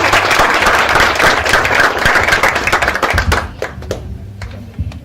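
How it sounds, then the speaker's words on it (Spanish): An audience at an academic conversatorio gives dense, loud applause that thins into scattered claps and fades out. "quiero pedirles un aplauso grande para abrir este conversatorio"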